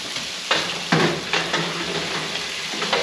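Fatty shoulder bacon sizzles in pans in an oven, a steady close crackle with a few louder bursts of spitting and stirring-like swells.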